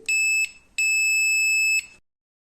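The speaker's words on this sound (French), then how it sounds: "ici normalement que c'est fermé actuellement, donc on entendra un bip" A multimeter in continuity-test mode gives two steady high-pitched electronic beeps across a relay, a short one then a longer one lasting over a second, clear and close with no talking.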